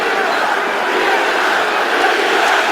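A UFC arena crowd chants Diaz during the Conor McGregor vs Nate Diaz rematch, a dense loud roar of many voices with no clear single speaker.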